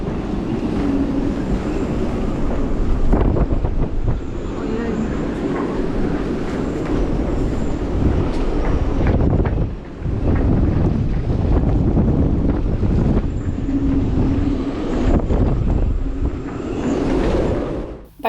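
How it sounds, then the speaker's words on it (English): Very strong wind sweeps through a marina, making a loud, constant roaring buffet that fills the whole stretch. It dips only briefly near the middle before surging again, with no voices. "we experienced very strong wind within the marina itself"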